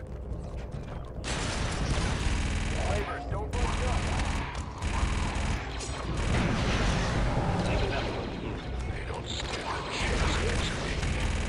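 A blaster repeater rifle in Star Wars Republic Commando fires sustained, rapid bursts of loud, close shots with mechanical clatter and brief pauses, while a voice talks over the gunfire.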